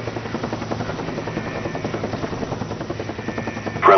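A care package delivery helicopter in Call of Duty: Black Ops thumps with a steady rotor chop as it approaches, loud and constant, with a brief bright burst of other game noise at the end.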